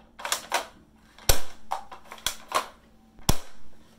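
Shots from a mostly hard-plastic airsoft rifle with some metal parts, several sharp snapping cracks fired at uneven intervals with a mechanical clack after each, close and loud, no voices.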